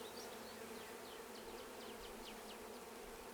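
Honey bees buzzing steadily in an open hive while a colony is installed, a dense close drone with sharp individual bees darting past, no voices.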